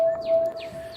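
Birds chirping outdoors on a nature walk under a flight path, a few short descending chirps repeating over a steady tonal hum, faint and in the background.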